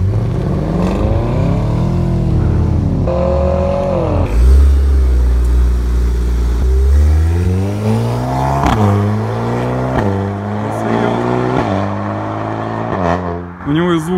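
Drag racing cars, including a 400 hp Camaro, rev and accelerate loudly up close, engine pitch sweeping up and down through gear changes, with people talking over the engine noise.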